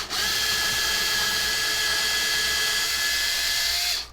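An electric drill bores a hole into a wood bowl blank for lathe mounting, a loud, steady high whine running for about four seconds before cutting off abruptly.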